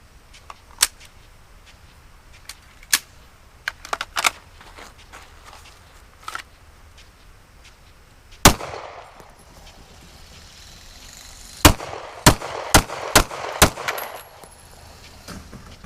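Gunshots during a target shooting drill: scattered sharp, loud cracks, single shots early, then a quick string of five near the end, over a quiet outdoor background.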